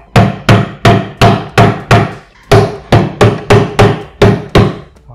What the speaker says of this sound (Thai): เดี๋ยวต้องตอกตะปูยึดใหม่เพราะ